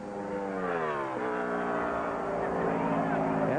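Stock car at speed on the Michigan speedway during Bud Pole qualifying in 2001, a loud engine whine sweeping down in pitch then climbing again as the car passes, with a commentator talking over it.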